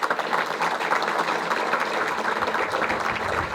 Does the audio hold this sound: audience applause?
yes